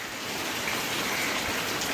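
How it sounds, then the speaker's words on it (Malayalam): Heavy morning rain falls steadily under a dark sky, a dense continuous hiss of drops on surfaces, close and even throughout with no one speaking. "രാവിലെ നല്ല സൂപ്പർ മഴ എന്ന് കാണിച്ചു തരാം"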